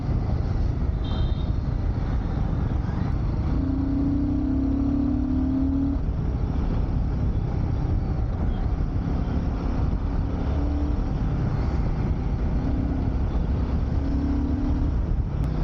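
A Royal Enfield motorcycle, a Guerrilla 450 or new Himalayan, pulls strongly while being ridden, its engine droning loud and steady with brief rising tones as it gathers speed, under constant wind rush and no talking.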